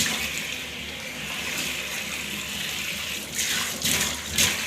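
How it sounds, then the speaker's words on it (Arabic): Water running and draining in a sink, a steady close rushing and gurgling stream that swells louder toward the end, with no one speaking. "هنزل الميه"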